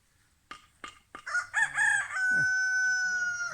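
A rooster crows loudly and close by, a long drawn-out call held for over a second after a few sharp clucks.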